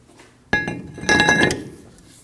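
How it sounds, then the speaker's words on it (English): A brake rotor being fitted onto the hub of a 2009-2014 Ford F-150 front axle gives a sharp metallic clank, then a second ringing metal clatter, both close and alone without talk. "We can install our rotor."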